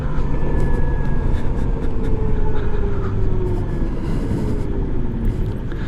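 A 2018 Zero SR electric motorcycle rides along with a steady whirring drone, continuous road and wind rumble and a faint rising motor whine throughout, no speech.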